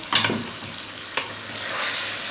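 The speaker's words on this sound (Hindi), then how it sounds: "ये देखें चिकन हमारा फ्राई हो रहा है" Chicken pieces frying in a pan over a high flame, with a sharp sizzle burst at the start and another spoon scrape or stir partway through, then a steady hiss.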